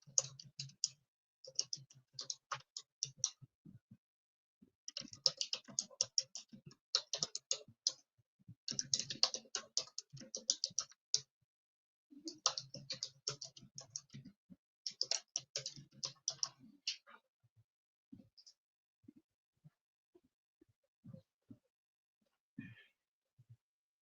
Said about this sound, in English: My typing this thing is going slow.